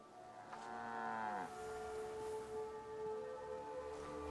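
A cow moos in a video game set in Viking-era England, one long, low bellow that bends downward in pitch, followed by quieter farm ambience with no talk.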